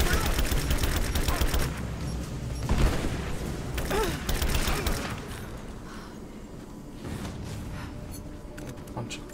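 Gunfire from the video game Rise of the Tomb Raider, dense loud bursts and booms filling the first seconds before thinning into scattered shots and rumble, with voices talking over the fight.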